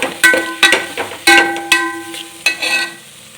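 Spoon repeatedly scraping and clinking through a paneer biryani mixture as turmeric, chilli and coriander powders are stirred in, a series of sharp, close taps and scrapes at an irregular rhythm with a faint hum of cooking behind.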